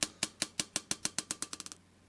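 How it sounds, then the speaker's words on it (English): Marbles dropping and bouncing in a Chinese horror video game: a run of sharp clicks that come faster and faster and grow quieter, like a bouncing marble settling, faint and isolated. "Oh, the marbles."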